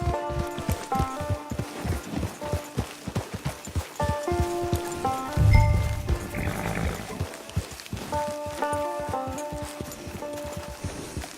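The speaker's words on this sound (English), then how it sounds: "It's your horse." A horse walking in the Red Dead Online video game, steady clip-clop hooves over a musical score, with a brief low rumble partway through.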